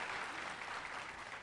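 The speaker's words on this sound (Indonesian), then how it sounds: "Berikan tepuk tangan yuk buat Tuhan Yesus yang luar biasa." A church congregation applauds in praise of Jesus, a steady, fairly faint patter of many hands clapping together, heard alone without talk.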